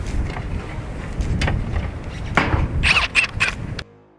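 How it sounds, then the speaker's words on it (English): Strong wind rushes and buffets across a rooftop in loud, uneven gusts with low rumbling, punctuated by a few sharper knocks and rattles before it cuts off abruptly. "Just wish it wasn't so windy."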